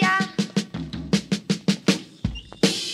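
Drum kit from a 1970s Spanish-language children's orchestra record, playing a steady run of about a dozen sharp kick and snare hits with cymbal wash, ending on a deeper thud and a crash, loud and alone.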